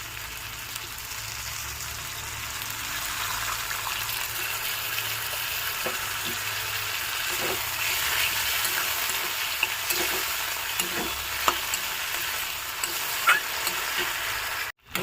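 Chicken pieces coated in turmeric sizzle in a pan for palong chicken, a constant close frying hiss broken by scattered spoon scrapes and taps as the meat is stirred, with no talking.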